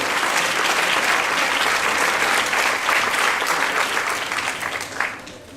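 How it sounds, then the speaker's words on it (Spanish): A lecture audience at a university humanities hall breaks into dense, sustained applause, loud and steady throughout before thinning and tapering off in the final second. "Un aplauso para él, no para mí,"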